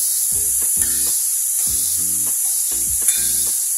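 Mixed vegetables for a veg manchow soup are stir-fried in a pan over a high flame, with a steady hiss of sizzling throughout and several short bursts of tossing and scraping.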